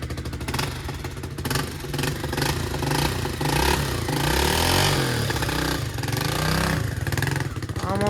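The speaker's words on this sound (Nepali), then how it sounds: "साउन्ड त मामबाट के साह्रो ठुलो सुनेको हाम्रो बाइकको" A motorcycle engine rumbles loudly and revs up and down in Pokhara, Nepal, up close and continuous, with a clattering mechanical edge.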